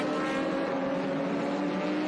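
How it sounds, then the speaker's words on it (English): An Audi LMP prototype race car climbs the hill at Watkins Glen with a steady, sustained engine drone that holds at a moderate distance through the whole moment. "Travis Engen is off to the races in that Audi, and up the hill he goes"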